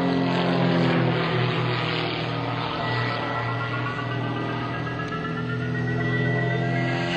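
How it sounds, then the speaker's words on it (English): Two Special S2B aerobatic biplanes performing at the 2004 Sussex Airshow, a continuous loud propeller engine drone with steady harmonic tones that shift slightly in pitch as they maneuver, heard alone without voices. "We can all enjoy the experience of these two aircraft soaring"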